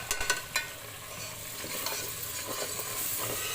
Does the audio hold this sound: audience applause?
no